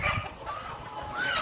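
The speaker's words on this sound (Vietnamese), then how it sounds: "Đây gà mái của nó này." Free-range village hens cluck in short bursts nearby, with a few brief rooster-like calls mixed in.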